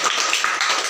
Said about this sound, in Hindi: करताली सहित स्वागत करू